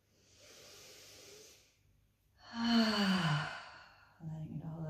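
A deep, audible exhale during guided yoga breathing for the lower back: a soft breathy release, then a longer, louder sighing breath out, heard close with no other sounds.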